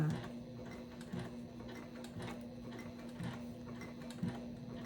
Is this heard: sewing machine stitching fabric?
yes